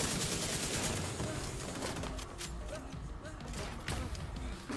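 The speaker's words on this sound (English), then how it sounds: "He's using the MG." Machine gun fire in The Division 2, a rapid, dense stream of shots that stays loud and steady throughout, mixed with broadband noise and no one talking over it.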